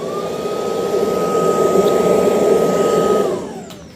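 A Henry vacuum cleaner runs loud and close, a steady whirring roar with a high motor whine that holds for several seconds before winding down at the end.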